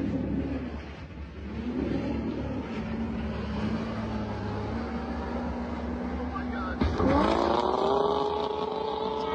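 A car engine held at full throttle roars toward a launching ramp, a loud, steady droning tone that climbs sharply in pitch as the revs surge near the end.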